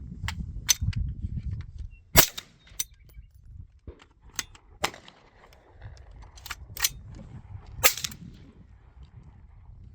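Sharp, close gunshots from a suppressed Bear Creek Arsenal rifle that stovepipes and fails to cycle, fired irregularly roughly a dozen times over ten seconds, with clicks and handling noise between shots.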